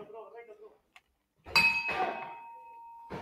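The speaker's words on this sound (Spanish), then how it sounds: "Campana. Y se terminó el primer asalto." Boxing ring bell ending the first round at a live Mercosur tournament fight, a sharp metallic ding ringing out and sustaining, following brief talk.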